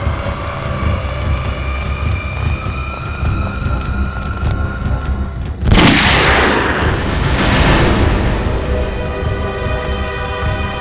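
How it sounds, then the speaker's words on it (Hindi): Gunshot sound effect in a Hindi crime-drama scene: one sudden, loud blast about midway that cuts through a steady bed of background music and leaves a rushing swell as it fades. "गोली चलने की आवाज।"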